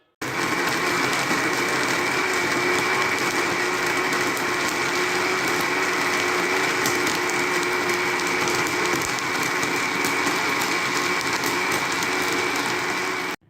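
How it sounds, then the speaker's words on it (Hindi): A blender runs steadily and loudly, blending a peach smoothie with added ice cubes, a continuous whirring motor drone with no pauses or talk. "एक दफ़ा अब दोबारा से हम इसे अच्छी तरह से ब्लेंड करेंगे।"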